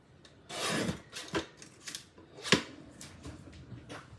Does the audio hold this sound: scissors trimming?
yes